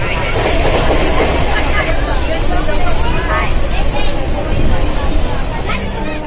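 Steady rumble of a moving Konkan Railway train carriage with a constant rattling roar, crowd chatter and voices mixed in throughout.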